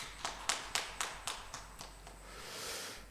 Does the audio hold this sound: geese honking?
no